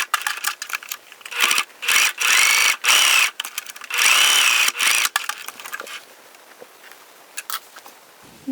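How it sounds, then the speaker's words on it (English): A sewing machine stitches around the edges of a pleated fabric face mask sewn from an old shirt, running in a series of short, loud, whirring bursts separated by brief pauses before falling quiet near the end. "I'm going to go back to the sewing machine and stitch around the edges and close this hole"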